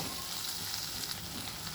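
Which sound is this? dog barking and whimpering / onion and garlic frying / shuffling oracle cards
onion and garlic frying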